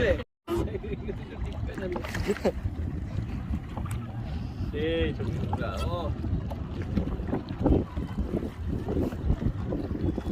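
A small boat moves across a wetland lake, with faint water splashes and creaking under steady wind noise, while people talk and call out throughout.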